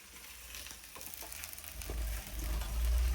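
Paneer pieces frying to golden in a pan, a soft steady sizzle with occasional stirring clatter, close, growing louder toward the end, no talking.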